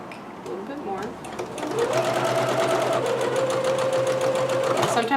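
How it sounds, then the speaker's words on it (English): A sewing machine runs steadily while stitching a kimono seam, a close, continuous mechanical whir that starts quieter and grows louder after a couple of seconds, with a person talking over it. "Because I'm stitching from the bottom, I have to watch to see where that is"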